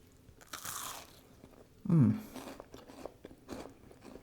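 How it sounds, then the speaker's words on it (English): A bite into a crunchy, soft-centred cowboy cookie gives one loud, close crunch, followed by quieter chewing. "A lot of crunch in here, but yet it's still soft in the middle."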